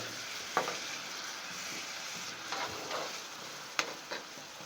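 Food frying in oil in a rustic country-style kitchen, a steady soft sizzle with a few sharper crackles and utensil scrapes spaced through it, close but fairly quiet, no talking.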